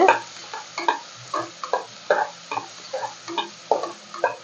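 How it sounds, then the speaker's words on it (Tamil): Medium onions and fennel seeds frying in oil for a mutton curry, heard as a rhythmic series of scraping, clattering stir strokes roughly every half second over a faint sizzle, close and fairly loud with no talking. "வெங்காயம் நல்லா வதங்கட்டும்."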